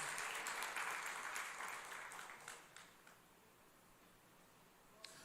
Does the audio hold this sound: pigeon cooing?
no